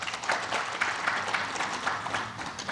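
Audience applause for a speaker at an industry conference, a brief burst of steady, dense clapping from a seated crowd, fairly soft and uninterrupted by talk.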